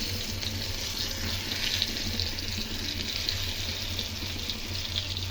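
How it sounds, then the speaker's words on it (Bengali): Stuffed eggplants fry in hot mustard oil on a flat griddle, giving a steady, close, loud sizzle that holds even throughout without any speech. "সর্ষের তেলে গরম হয়ে যাওয়ার পরে এই বেগুনগুলো এর মধ্যে এভাবে আমি ভেজে নেব।"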